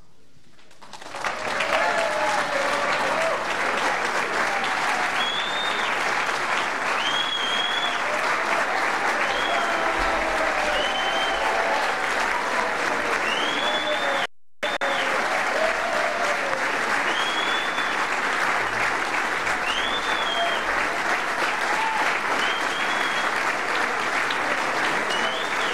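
A large audience claps for the President of the United States and Vice President at a health care signing ceremony, loud sustained applause filling the room with whistles and cheers rising above it, broken by one brief gap.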